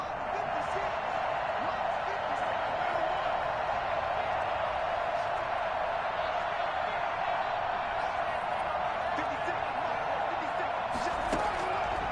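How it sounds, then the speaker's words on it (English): A stadium crowd in a Madden football video game roars as a steady, loud wash of noise during a two-point conversion attempt, holding constant under commentator talk, with a brief sharp burst near the end. "Listen to this crowd now."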